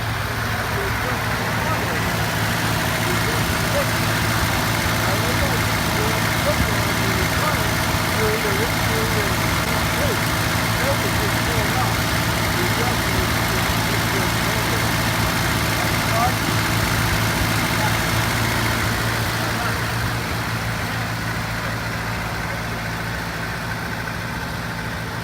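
A 1929 Ford Model A engine idles steadily, a constant low mechanical rumble with even ticking that holds for the whole stretch and eases slightly toward the end.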